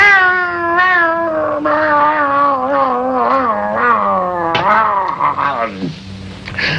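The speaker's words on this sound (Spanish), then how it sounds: "me pasaron al gato y estaba saludándolo" A cat meows in long, drawn-out, wavering cries, loud and close, one after another with no break.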